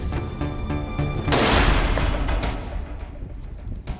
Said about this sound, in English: With a superb shot, our hunter manages to bring down the kudu.